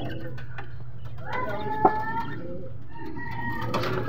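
Racing pigeons at the loft give a few soft, scattered coos and clucks, with one sharper call standing out, over a steady low hum in the background.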